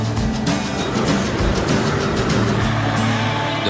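Mercedes Actros semi-tractor trailer truck driving on the road, a loud, close diesel engine rumble with continuous road and tire noise and brief surges, no voices.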